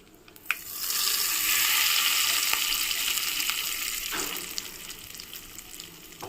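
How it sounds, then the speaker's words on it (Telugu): A hot tempering of fried dried red chillies and curry leaves is poured into coconut chutney, setting off a loud, steady crackling sizzle that lasts several seconds and slowly eases, with no talk over it. "ఇప్పుడు పోపు ఇందులో వేసేసుకుందామండి."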